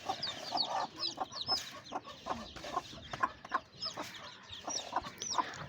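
Hens clucking softly nearby on a farm, with short repeated calls and scattered chick-like peeps over a quiet background, no talk.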